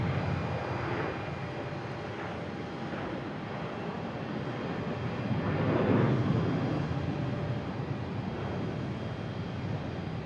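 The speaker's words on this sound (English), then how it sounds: "It is United taking off," A United airliner takes off at Boston Logan with a broad, steady jet roar heard from a distance outdoors, swelling slightly in the middle as it climbs and staying constant with no talking.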